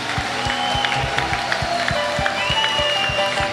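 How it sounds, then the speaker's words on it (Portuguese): A church congregation claps in rhythm to praise Jesus during an Easter Sunday Mass, the claps coming as regular, fairly loud beats over a sustained backdrop of voices and music. "palmas para Jesus,"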